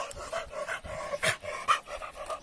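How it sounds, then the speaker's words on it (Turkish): A big five-month-old dog panting steadily, quick rhythmic breaths close by at moderate volume, with small whimpering catches between breaths and no talk. "Bu da bayağı bir iri köpek arkadaşlar."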